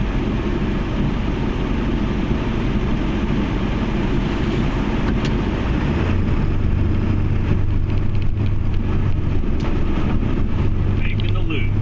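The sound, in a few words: Ford F250 Powerstroke truck driving while plowing snow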